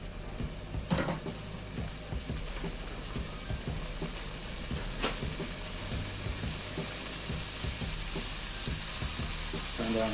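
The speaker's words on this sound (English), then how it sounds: "Turn down the heat, and we're going to render all this fat out." Unsmoked Japanese bacon fries in a pan to render its fat, a steady moderate spitting sizzle with a few sharp pops and light clicks near the start.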